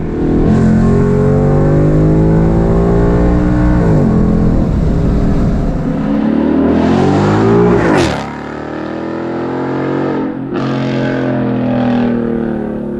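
A loud car engine running on E85 fuel revs and roars up close, pitch climbing and dropping through several throttle blips before settling to a lower idle.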